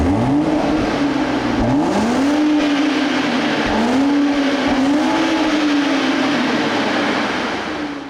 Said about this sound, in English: Take a listen to the exhaust note in regular mode.